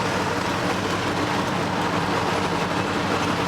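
An old car engine, not yet warmed up, idles at around 2,000 RPM with a dense, steady rumbling drone that stays constant and close throughout.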